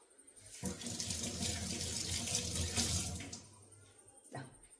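Tap water runs steadily over a freshly peeled vegetable as it is rinsed in a sink, a close splashing stream that starts abruptly, holds for about three seconds and then stops, with a short final splash.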